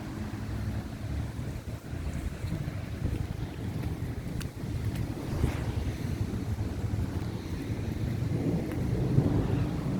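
A severe June thunderstorm rumbles in a low, continuous roar of rain and wind near a lake, with faint thunder building steadily and no voices.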